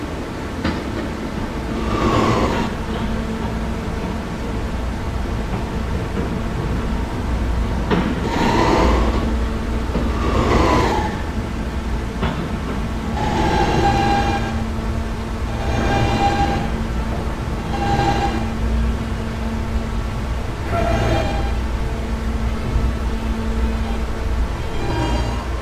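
A Kawasaki R160 Siemens subway train on the E line runs steadily, with a low rumble and periodic rising motor whines as it accelerates and slows between stations, heard from inside the car without talk.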